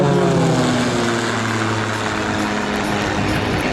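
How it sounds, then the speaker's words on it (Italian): A CAP 231 aerobatic propeller plane's engine drones loudly and continuously at an air show, its pitch shifting slightly as it passes close by. "Sentiamo il rumore del motore di un velivolo che può viaggiare oltre i 400 km/h."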